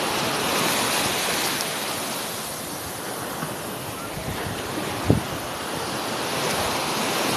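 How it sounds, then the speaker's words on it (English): Sea waves wash in a continuous broadband surf roar mixed with wind, with a short thump near the middle, all steady and fairly loud. "I adore the sea"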